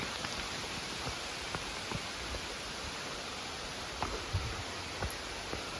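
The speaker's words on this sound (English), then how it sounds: "Okay, now it's raining harder." Steady rain falls along the Appalachian Trail on a mountain, a continuous close hiss with scattered sharper drops and taps on gear, no voices.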